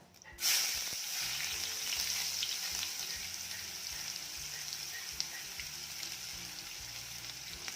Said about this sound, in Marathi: कांदा देखील छान परतून घ्यायचा आहे